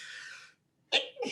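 A single sharp sneeze bursts out after a brief breathy pause, loud and close, followed by a short trailing exhale or second burst.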